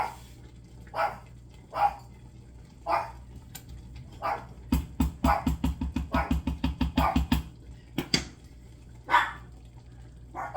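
Several dogs bark in a home kitchen while chicken and dumplings cook, a run of sharp repeated barks in a rapid burst mid-way with scattered single barks before and after, fairly close.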